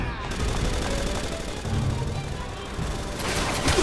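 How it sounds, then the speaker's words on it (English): Enemy gunfire in Resident Evil 6: a dense, continuous barrage of overlapping shots and booms, steady and loud throughout, with a brief voice underneath. "Ah, you're shooting at me."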